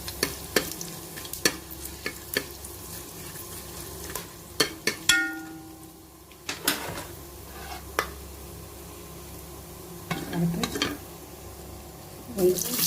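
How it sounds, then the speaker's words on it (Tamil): Onion fries with cinnamon, cloves and cardamom in a pan: a low sizzle sits under repeated sharp spatula scrapes and clacks against the metal, while a person talks over the cooking. "பட்டை லவங்க ஒரு ஏலக்காய் எல்லாம் போட்டு வச்சுருக்குறோங்க அது மாதிரி போட்டுக்கோங்க அடுத்து வெங்காயம்"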